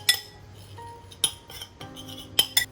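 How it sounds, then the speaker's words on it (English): A spoon clinks against a bowl while mixing salt and black pepper, giving a few sharp metallic taps spaced irregularly over a quiet background, close and fairly soft. "using a spoon, just mix them all up together"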